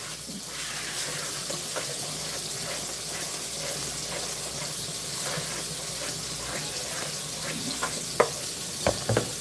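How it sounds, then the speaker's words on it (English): A spoon stirs fried corn and cabbage in a hot skillet, a steady sizzle of frying food with scattered scraping clicks from the spoon, close and continuous, with no talking. "I had to rinse my spoon and stir that up good."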